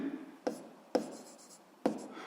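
A pen scratches softly across paper while someone writes out a school physics solution, with three sharper taps or strokes standing out from the quiet scribbling.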